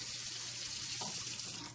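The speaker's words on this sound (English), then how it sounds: "And now I'm going to put a little fresh water into it." Fresh tap water runs steadily into a pot of collard greens, a close, continuous splashing stream from a kitchen faucet with no talking.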